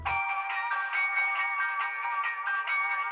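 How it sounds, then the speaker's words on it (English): The Sly Cooper theme tune plays as a ringtone from a PS4 video game, a clean melodic electronic jingle with a steady pulsing rhythm, clear and alone after a brief opening thump. "it's the Sly Cooper theme tune"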